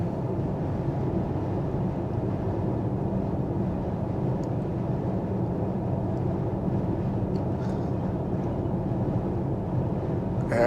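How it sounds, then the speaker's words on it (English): Steady low road noise inside a 2023 Hyundai Ioniq 5 EPIQ on the move, a constant broadband rumble and hum holding evenly throughout with no talk. "I'll just keep quite a bit longer for the road noise for you."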